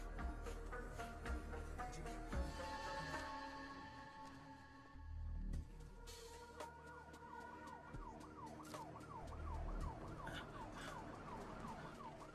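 A wailing ambulance siren sweeps up and down steadily over traffic rumble, fairly close, with a brief pause before the wail resumes.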